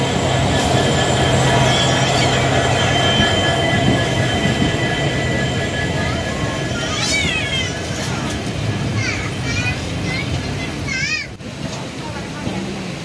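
A train rolls out of Villupuram station with steady rumbling and clacking, as high squealing wheels whine over the noise; voices faintly talk in the background.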